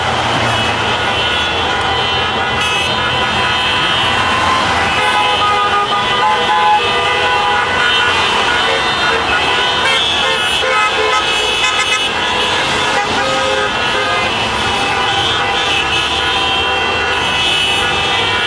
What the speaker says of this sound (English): They're all honking for you.